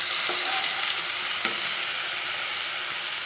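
Ginger-garlic spice paste fries in hot oil, giving a loud, continuous close-up hiss with a few faint scrapes from stirring, and no voices.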